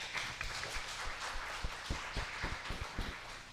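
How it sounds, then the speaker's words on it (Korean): A congregation claps together during a Sunday worship service marking a church's eighth anniversary, producing fairly quiet, uneven applause with distinct individual claps standing out from the crowd. "박수로 영광 돌립니다."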